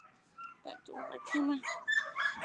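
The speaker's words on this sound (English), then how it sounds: "Let's look at more puppies." Small puppies from two litters give high, thin whimpers and yips in short bursts, close by, with someone talking over them.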